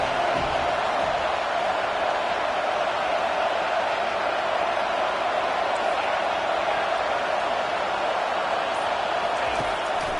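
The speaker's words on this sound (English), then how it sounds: "And here comes the noise. This crowd is trying to inspire this defense to make a big red zone stop." Steady stadium crowd roar from a football video game dynasty mode, a dense, constant wash of massed voices swelling before a red zone defensive stand, loud and unbroken throughout.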